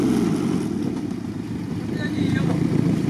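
A loud off-road vehicle engine rumbles and revs up close on peat bog terrain, a low throbbing drone that rises slightly toward the end, with some wind buffeting.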